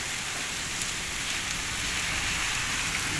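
Steady, dense rain and hail patter down without a break in Bathinda, Punjab, a constant hiss of drops striking surfaces; no voices or other sounds stand out.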